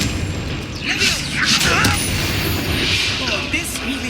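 A Confringo fire-blast spell exploding in Hogwarts Legacy, repeated bursts and crackling impacts with mechanical clatter, loud and close, with voices talking over the blasts.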